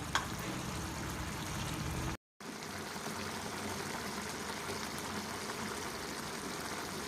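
A masala ridge gourd curry bubbles in a covered pot, giving a steady, soft hiss and simmer that drops out briefly and then resumes, with no talk.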